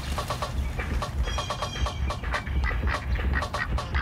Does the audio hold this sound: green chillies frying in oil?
no